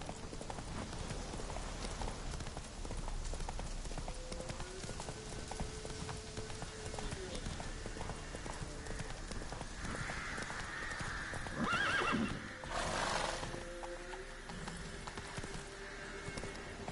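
A horse in The Witcher 3 video game gallops with a steady, quiet clip-clop of hooves and gives a brief neigh partway through.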